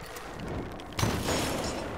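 An explosion in the video game Tomb Raider (2013): a low rumble builds, then a sharp blast bursts out around the midpoint and leaves a sustained, loud roar of debris afterward.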